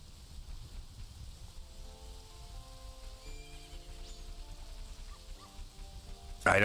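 A horse neighs in the video game Majora's Mask, running as a PC port: a faint, drawn-out whinny over a steady rain-like hiss of game ambience.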